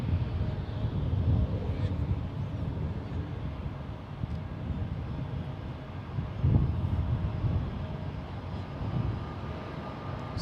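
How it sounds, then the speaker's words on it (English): Alaska Airlines Boeing 737-700 arriving at San Francisco International Airport, a steady low jet roar with broadband rumble and wind over the whole stretch, swelling slightly midway. "So Alaska Airlines Flight 1350, Boeing 737-700 in from Seattle."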